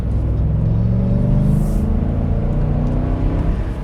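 Ford F250 pickup with the 7.3L Godzilla V8 and 10-speed transmission pulls hard under acceleration, a steady loud low engine rumble with rising drone heard from inside the cab, no talking.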